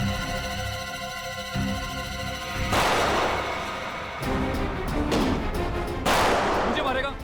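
Gunfire rings out in a Hindi TV crime drama scene from CID, several heavy broadband blasts cutting through a dense dramatic music score, with voices mixed in.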